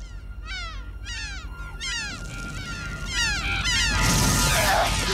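A bird calls at night, giving a run of sharp, repeated descending cries, loud and close, as a broad rushing noise rises and fills the final second.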